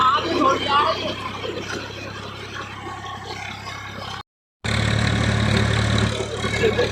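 Tractor engine running with a low steady drone under someone talking, a brief dropout near the middle, then the engine roaring back louder as the ride continues.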